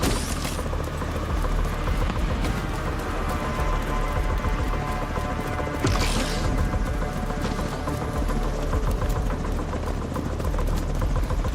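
Helicopter idling at an extraction point in a video game, a steady broadband engine and rotor drone that holds loud and continuous throughout, with a brief hiss burst partway through and no voices.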